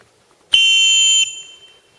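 Loud, piercing signal whistle built into an Opinel No.8 Outdoor knife with a bimaterial polymer handle, rated at 110 decibels, sounding as one sustained shrill blast of about three-quarters of a second, heard alone.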